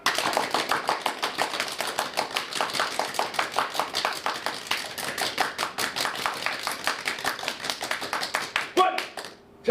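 Rapid hand clapping from a seated audience at a wellness forum, a dense, steady patter of many hands lasting nearly ten seconds before it stops abruptly with a brief cheer.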